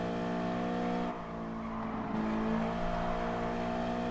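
A racing car's engine in GT Sport, in a Clubman Cup amateur league race, holds a loud, steady drone with a brief dip midway before the note rises again, with no talk over it.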